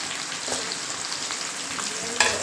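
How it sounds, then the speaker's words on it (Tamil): Onions sizzle steadily in a hot pan for a dried fish curry, a dense crackling hiss with a soft stir near the end. "வெங்காயம் வந்து நல்லா வதங்கினாங்க"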